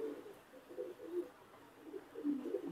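Pigeons, including a newly paired couple, give soft, low rolling coos at a distance, quiet and unbroken by speech.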